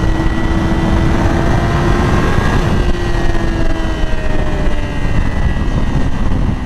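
Engine of a 2020 Yamaha R6 motorcycle held in third gear around 8,000 rpm, a loud, steady high-pitched drone with rising tonal lines and heavy wind rush throughout, no talking.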